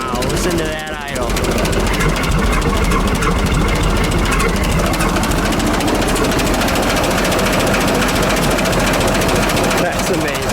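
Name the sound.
1907 Renault Type AI Vanderbilt Racer engine idling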